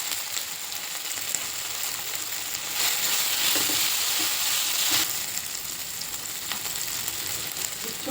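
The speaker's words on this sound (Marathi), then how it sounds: "राई जिरं तडतडल्यावर त्यात कांदा टाकते, एक चमचा आलं लसूण पेस्ट टाकते, कापलेला बटाटा टाकते" Onion, ginger-garlic paste and cut potato fry in oil over popped mustard and cumin seeds, a steady moderate sizzle with a brief louder surge and occasional stirring clicks, no voices.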